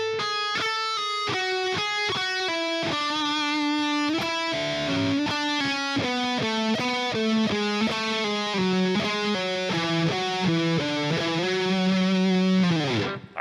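Distorted electric guitar plays a riff alone, a fast, continuous run of picked notes with shifting pitches, loud and steady before stopping abruptly.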